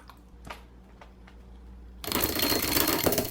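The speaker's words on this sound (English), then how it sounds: "you know that's my favorite part is beating the brush" A wet paintbrush beaten against something to shake out the water: a few sparse taps first, then a sudden burst of rapid, loud rattling thumps that continues steadily to the end, with no talking.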